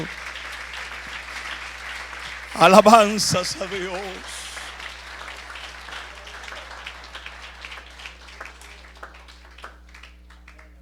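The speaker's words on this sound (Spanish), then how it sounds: "Démele un aplauso al Señor, por favor." A church congregation bursts into a short round of applause during a Spanish-language sermon. The clapping swells briefly and fades while the preacher keeps speaking over a low hum.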